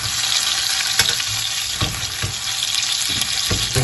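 Florentine T-bone steak searing in a pan with aromatic herbs, a loud continuous sizzle and crackle with sharp spits and pops scattered through it, close up and without voices.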